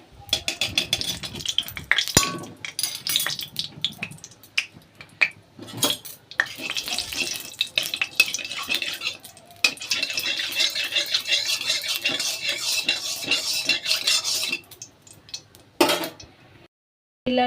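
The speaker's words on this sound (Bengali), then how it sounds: "কড়াই তেল দিয়ে দিয়েছি, তেলের মধ্যে একটু ঘি দিয়ে দেবো।" Ghee heating in oil in a wok with stirring and utensil clatter, with neem leaves, aubergine, potato and poppy seed paste at hand: a steady bright sizzle with intermittent metallic scraping and clinks, moderately close, fading near the end.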